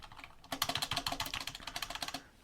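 Computer keyboard keys pressed in a fast typing burst, crisp clicky strokes in steady rhythm, close and clear with no talk.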